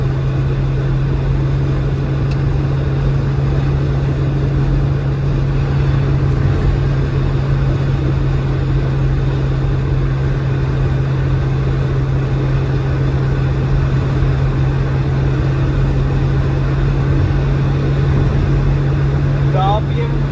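Engine drone from a bone-stock Honda City VTEC (Type 2, JDM) cruising around 4,300 rpm in fifth gear, a steady loud hum with a strong low tone held constant throughout, with no sharp revving.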